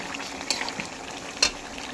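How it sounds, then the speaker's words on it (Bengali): Mutton pieces with a few chunks of potato stir-frying in oil in a pan, giving a steady soft sizzle with two sharp spatter crackles, close and alone with no talk. "বন্ধুরা এখন মটনটাকে আমি ভালো করে কষে নিচ্ছি।"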